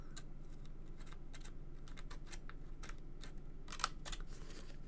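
Scissors snip through paper while a card holder is being cut, giving a series of short, crisp clicks spread through the stretch with one sharper cut near the end, close by and fairly quiet.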